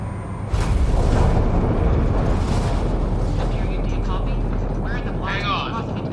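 Spaceship decelerating on approach to a planet in the Mass Effect game: a loud, sustained deep roar and rumble with broad noisy texture, under occasional voices and chirpy electronic tones.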